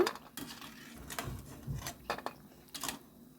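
Crisp homemade kurkure snacks are dropped onto a plate in a run of light, uneven clinks and rattles, each brief clatter followed by a short gap.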